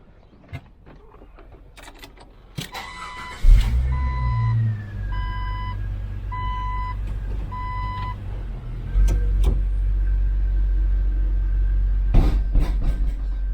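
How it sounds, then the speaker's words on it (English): Jeep TJ pulling forward: a low engine rumble rises and settles as the vehicle creeps ahead, with a repeating electronic chime beeping several times over it and clicks and knocks around, no talk. "I think we'll drive forward a little bit."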